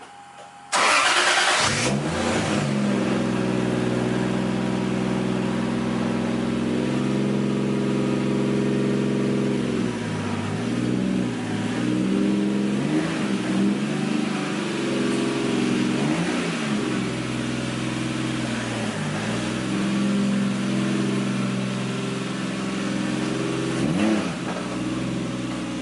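A Nissan 240SX S13 with a swapped 1JZ engine, heard from outside with the garage door down, fires up and then revs repeatedly, loud and close, with its exhaust note rising and dropping between long steady idle stretches.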